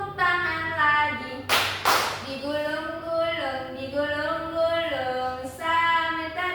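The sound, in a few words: class clapping hands during a classroom song game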